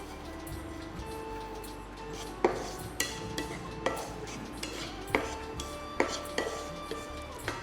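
Sesame seeds dry-roasting in a pan, stirred with a utensil that scrapes and knocks against the metal in a steady series of sharp clinks about every second, close and fairly quiet.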